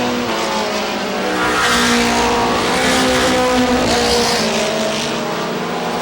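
Race cars roar down the back straightaway at Star Speedway in New Hampshire, a loud, continuous engine drone that swells and shifts as the pack passes nearby, with no voices over it.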